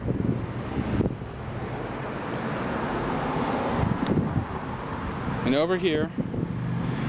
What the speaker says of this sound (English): if you can hear me over traffic